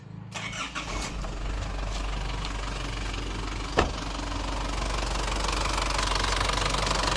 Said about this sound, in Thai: เดี๋ยวผมจะลอง สตาร์ท เครื่องฟังเสียงกันดูนะครับ